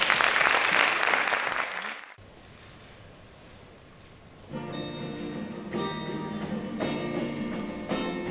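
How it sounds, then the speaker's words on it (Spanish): An audience at a Christmas carol contest in Jerez de los Caballeros bursts into loud applause for a children's choir, then it cuts away to quieter room noise before sustained instrumental music begins. "Démosle un fuerte aplauso."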